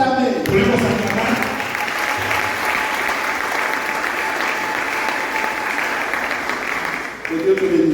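Congregation at a church service applauding and cheering steadily for several seconds, a dense, sustained wash of clapping that tapers off briefly near the end before voices resume.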